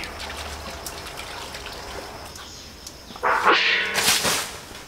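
Water splashes and trickles over ten pounds of pork bones being rinsed, a low running wash with a louder burst of splashing near the end.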